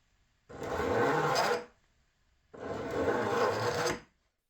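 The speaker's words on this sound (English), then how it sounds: "you can take a wood file and gently go over the cut edges of the laminate, only using downward strokes" Wood file rasping along the cut edges of a laminate countertop, two separate downward strokes about a second long each, close and fairly quiet, with no talking.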